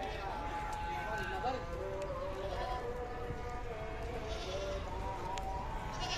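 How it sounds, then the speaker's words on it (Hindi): Goats at the Deonar livestock market, several bleats rising over a busy crowd murmur, with people talking nearby. "एक और बकरा है"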